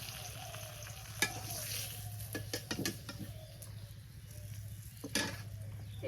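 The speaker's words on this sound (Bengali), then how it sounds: "পেঁয়াজ দিয়ে দিলাম" Onions frying in a pan in a village kitchen, a steady close sizzle with stirring and a few sharp clatters of a utensil against the pan, no talking.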